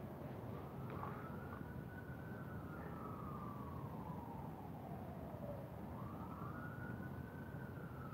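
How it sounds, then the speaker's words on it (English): An emergency siren wails through the street, its tone sweeping slowly down and back up over a steady wash of traffic noise, fairly distant and continuous with no talking. "We got sirens going."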